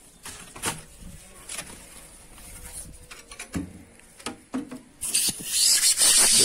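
A plastic pipe is twisted by hand to bore a hole through a building block, giving intermittent scraping and grinding rubs, close by, with a louder hissing scrape near the end.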